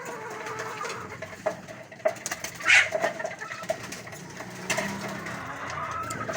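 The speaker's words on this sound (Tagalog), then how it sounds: "Nakita nyo naman, talagang kumakain ng kanin yung mga kalapati natin." Pigeons feed on cold rice soaked in water with electrolytes, giving soft irregular close pecking taps and shuffling, with a brief low coo and faint background noise, no talking.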